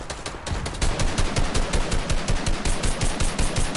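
Rapid automatic gunfire in a video game, aimed at a wall, rattles out in a loud, continuous burst of closely spaced shots that lasts the whole stretch.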